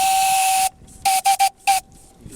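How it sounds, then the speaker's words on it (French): A small steam whistle on a steam launch gives one long shrill hissing blast, then four short toots in quick succession, close and loud. "j'ai un petit sifflet."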